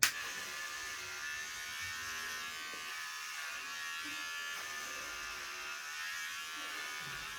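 An electric hair clipper runs steadily while shaving off a friend's year-long grown hair, a close continuous buzz with no talk over it.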